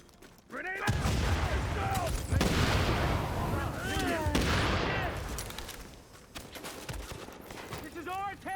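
Grenade blast and bursts of gunfire in a video game battle for a town, loud and dense throughout, with voices shouting over the combat and a brief lull near the end.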